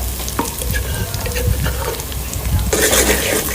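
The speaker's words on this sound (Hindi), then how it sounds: "अब मैं इसमें अदरक लहसुन का पेस्ट और मिर्चें डालने लगी" Ginger garlic paste and chilies hit hot oil with browned onions for chicken daal mash, giving a loud, steady sizzle with stirring scrapes that swells sharply near the end, close to the pan.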